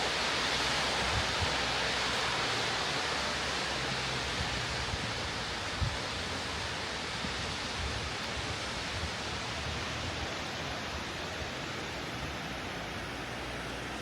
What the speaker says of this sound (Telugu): బాగున్నాయి వాటర్ ఫాల్స్ ఇక్కడ సూపర్గా పడుతున్నాయి